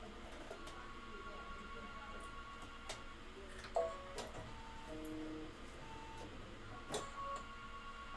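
An embroidery machine stitches a design with a steady, rapid mechanical ticking and rattle, quiet and close, with occasional louder clicks and faint tonal whirs.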